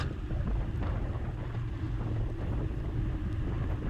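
Headwind roars across the microphone during a fast crit bike race, a loud, steady, low buffeting rush that lasts the whole moment with no voices.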